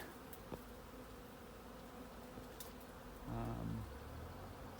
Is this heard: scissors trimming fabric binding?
no